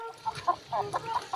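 Chicken clucking in short, uneven bursts, several brief calls a moment apart, moderately close over a quiet outdoor background.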